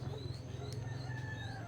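Crossbreed labuyo red junglefowl chickens cluck and call faintly in the distance over a steady low hum, with a rooster crow heard among them.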